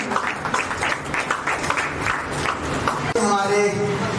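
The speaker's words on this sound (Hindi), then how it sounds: "जोरदार तालियां होनी चाहिए।" Audience applause at a school Independence Day celebration, a steady broadband clatter of many clapping hands running throughout at moderate loudness, with a voice and a sharp tonal burst near the end.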